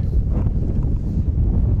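A tiny boat idles up a deep channel in Everglades National Park, its low steady engine rumble and wind buffeting the microphone filling the whole stretch, with no voices.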